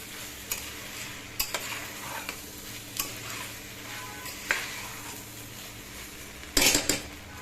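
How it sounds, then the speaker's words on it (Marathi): Chopped tomatoes sautéing in a little oil, a soft low sizzle punctuated by sharp spoon knocks and stirring strokes against the pan, with a louder clatter near the end; no voices. "थोड्या तेलामध्ये आपल्याला परतून घ्यायचं सगळं"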